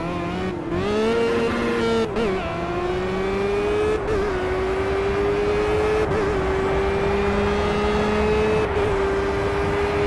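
A Formula Gulf Renault open-wheeler braking hard at Imola in Project Cars, with a loud engine whine dropping in steps through downshifts and then holding a steady buzzing tone, all near and continuous.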